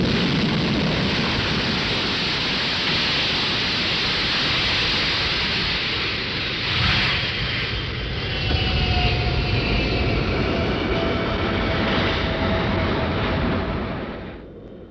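French Concorde jet landing at Kennedy Airport, a loud sustained roar of jet engines with broad rumbling noise that swells and then fades near the end, with no voices heard.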